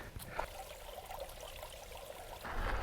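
Water pours and trickles steadily into a bottle fitted with a water filter during a refill, close and moderately loud, with a fuller rushing surge near the end.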